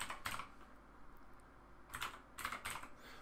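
Keys on a computer keyboard are tapped in short clustered bursts with pauses between, soft and close against a quiet room background.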